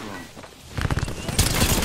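Bursts of Mozambique shotgun fire in a battle royale video game, a dense run of sharp blasts that grows louder and more continuous midway, loud and close under excited players' voices.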